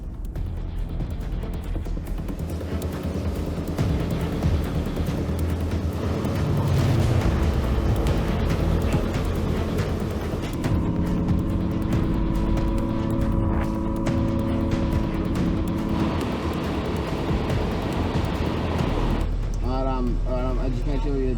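A 4WD vehicle bogged in soft mud in Tasmania, its engine revving hard and surging in loud sustained bursts while people talk over it throughout.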